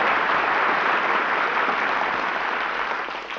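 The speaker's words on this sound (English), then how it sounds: "Gee, was all that applause for me?" A studio audience applauds at a live broadcast comedy show, a dense wash of clapping that stays steady and then begins to fade toward the end.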